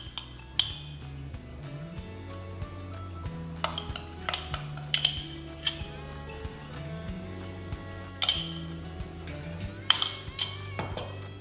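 A teaspoon clinks against plates and oyster shells while wasabi is spooned onto fresh raw oysters, giving sharp metallic taps at irregular intervals over steady low background music.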